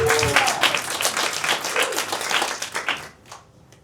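A theatre audience at a Camden Fringe murder-mystery show gives a dense, steady round of applause that fills the room and then fades out abruptly near the end.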